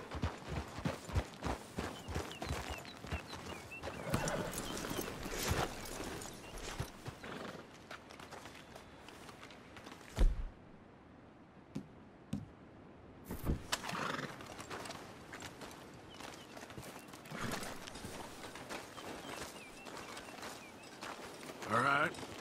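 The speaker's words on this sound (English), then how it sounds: "We should leave the horses." Horses snort and neigh while hooves clip-clop nearby in Red Dead Redemption 2, with people talking over a busy background.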